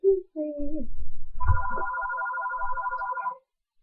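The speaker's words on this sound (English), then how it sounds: "That's my phone ringing." A phone ringtone plays a repeating electronic melody for a few seconds, preceded by a short musical phrase, fairly clear against a quiet background.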